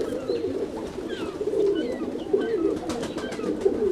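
Roller pigeons coo in a low, steady murmur close by, with scattered faint chirps and wing flutters over the continuous loft hum.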